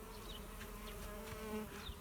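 Steady buzzing of honeybees close by, a continuous drone with slight shifts in pitch as the bees move around.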